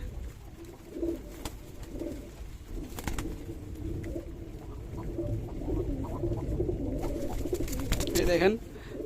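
Black Huma pigeons at a farm cooing softly while being hand-fed, low throaty coos repeating over steady background noise, with a few wing flutters near the end.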